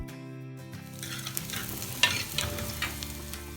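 Chopped onions sauté in coconut oil in a clay pot. A hum opens the clip, then a loud, steady sizzle takes over with repeated scraping stirs and a few sharp clinks close by. There is no talking.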